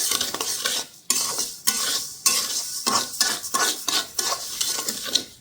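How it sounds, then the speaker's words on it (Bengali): Black gram (mashkalai) dal dry-fries in a pan, stirred briskly with repeated loud scraping and rattling of the lentils against the metal, punctuated by short pauses, close and without talk. "মাসকলাইয়ের ডাল ডাল ভাজছি ভেজে তারপর ব্ল্যান্ডার করে গুঁড়া করবো"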